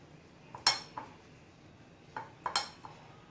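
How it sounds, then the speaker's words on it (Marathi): Methi muthia dough ingredients are mixed in a bowl, giving a few sharp, sparse clinks and knocks of a utensil against the bowl over near silence. "आता हे सगळं आपल्याला चांगलं एकत्र कालवून घ्यायचं आहे."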